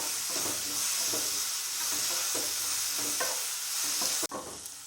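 Onions and curry leaves sauté with salt in a hot pan, a steady close sizzle broken by repeated scraping stirs in an uneven rhythm, ending with a sharp knock and a quieter hiss.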